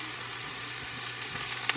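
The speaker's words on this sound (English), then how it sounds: "you can hear it sizzling away" Mushrooms sizzle in a frying pan with the heat switched off, a steady crackling hiss with occasional small pops, moderately quiet and close.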